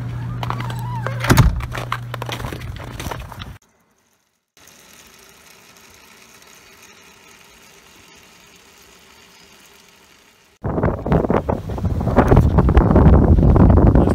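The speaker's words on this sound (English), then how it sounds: "pretty windy out here right now" Wind blowing across open farm property, heavy gusts buffeting the microphone in loud rumbling bursts at the start and again near the end, with a quieter stretch in between.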